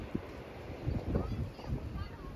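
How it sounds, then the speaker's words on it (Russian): Winter wind gusting across the microphone beside the Black Sea at Odessa, a steady rough buffeting roar with low rumbling surges that swell and fade, no talk over it. "Ветер поднялся."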